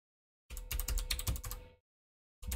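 Rapid keyboard typing, a quick burst of clacking keys for about a second, then a pause and a few more keystrokes starting up.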